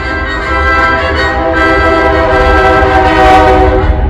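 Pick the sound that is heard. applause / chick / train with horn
train with horn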